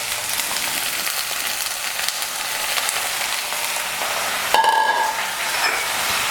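Onion for a prawn fry sizzles steadily in a hot pan, a dense continuous hiss with a brief metallic clink of a utensil partway through, close and fairly loud with no talking.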